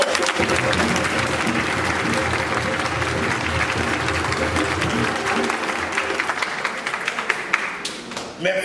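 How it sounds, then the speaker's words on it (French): Congregation applause in a church during a baptism celebration in Massy, a long, full round of clapping from many people that holds steady and thins into scattered claps at the close. "On les applaudit pour ça."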